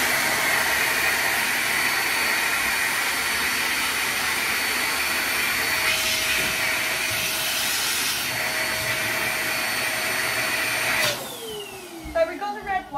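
A red balloon is inflated with a steady, loud rushing airflow that runs continuously for about eleven seconds, then gives way to squeaky stretching rubber and a few short sputtering bursts as air escapes.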